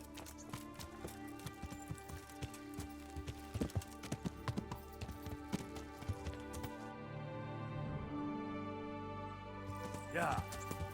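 Steady clip-clopping of horse hooves in a quick rhythm, close by, with music and other game sounds layered over it, in Kingdom Come: Deliverance.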